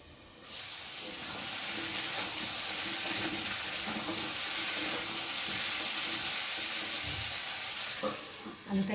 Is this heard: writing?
no